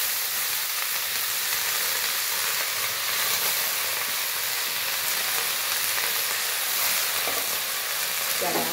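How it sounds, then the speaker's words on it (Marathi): Fenugreek leaves stir-fried in a pan give off a loud, steady sizzle and hiss that carries on unbroken, with occasional stirring scrapes and no talking. "त्याला असं परतून घेऊया"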